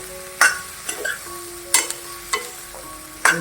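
Okra (bhindi) with kokum and onion stir-fried in hot oil tempering: a soft sizzle under several scraping spatula strokes against the pan, close and fairly loud.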